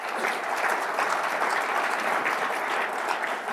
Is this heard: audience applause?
yes